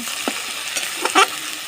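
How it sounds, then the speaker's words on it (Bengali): Chili and turmeric spice paste sizzles steadily in a pan for a chicken and bottle gourd curry, with a few soft scraping stirs and one louder clatter near the end; no voices. "যে মশলাটাকে খুব সুন্দরভাবে আমি কষিয়ে নিচ্ছি দশ মিনিট ধরে"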